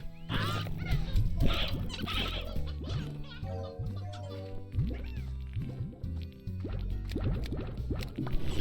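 Chickens in the video game Slime Rancher cluck and squawk in a busy flurry of short, close calls, while a game music loop plays underneath.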